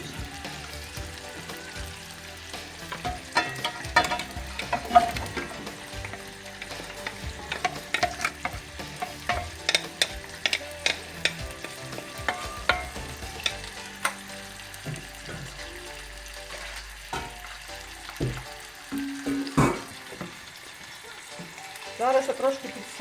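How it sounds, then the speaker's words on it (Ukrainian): Vegetables sizzle and crackle in olive oil in a hot pot, with a spoon scraping and stirring at intervals, close and moderately quiet. "Буду висипати і смажувати овочі."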